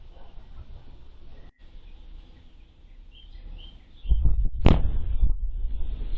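A meteor fireball's explosion boom over the southern United States arrives as a sudden loud low thud after a quiet stretch of faint rumble, followed by a sharp crack and a few rolling after-rumbles.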